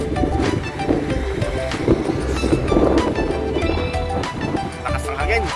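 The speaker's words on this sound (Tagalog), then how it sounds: "Lakas ang hangin." Steady, loud wind in Athens, Greece buffeting the microphone with a constant rumbling roar, and faint voices in the background.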